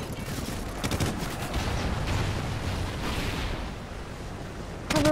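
Sustained heavy gunfire in the video game Call of Duty Ghosts, a dense continuous barrage of rapid shots with booming low rumble throughout, loud and close, with a sharper burst at the very end.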